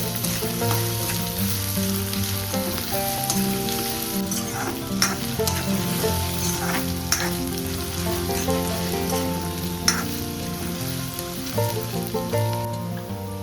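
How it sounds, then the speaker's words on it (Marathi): Chopped onion sautés in hot oil in a kadhai for a Kolhapuri misal: a steady, close sizzle fills the whole stretch, with occasional stirring scrapes and clinks on top. "कढईत तेल गरम करा. त्यात चिरलेला कांदा घाला आणि छान परता."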